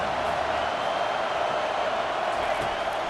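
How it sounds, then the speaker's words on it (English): A stadium crowd in College Football 25 roars steadily as fans rally behind the defense on third down, a dense, constant wall of loud noise with no break. "Decibels rising as the crowd gets behind this defense on 3rd down."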